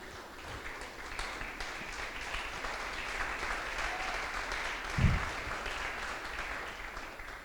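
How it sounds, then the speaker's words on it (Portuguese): A church congregation applauds steadily for several seconds, a broad wash of clapping with a brief low thump partway through, continuing evenly without speech. "Se assente e dê um aplauso a Jesus Cristo"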